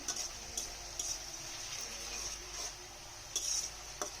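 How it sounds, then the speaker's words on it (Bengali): Meat frying in a pan with a little salt while a spatula stirs it, giving sharp, intermittent clinks and scrapes over a faint, steady sizzle, close by with no talk. "এখন আমি এটাকে আবার একটু নেড়ে চেড়ে ভেজে নেব"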